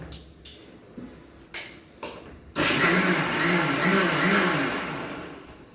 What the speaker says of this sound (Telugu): మిక్సీ కొడతాను